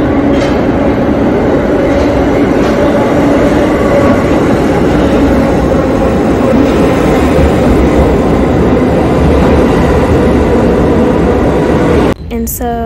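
Steady, loud rumble and rolling roar of a New York City subway train in motion, a continuous ride noise filling the whole stretch with faint voices mixed in, ending abruptly in a brief different sound.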